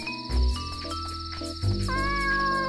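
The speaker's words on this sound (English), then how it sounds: "We're following this cat." A cartoon cat meows repeatedly in the underwater adventure game Dave the Diver, with game music and chimes playing underneath.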